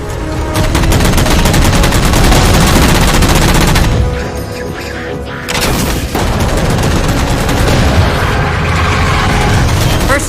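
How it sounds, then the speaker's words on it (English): Dense, continuous gunfire and explosions from the video game Halo 4 roar loudly, with rapid automatic bursts and a brief lull before the barrage resumes. "Shoot them down."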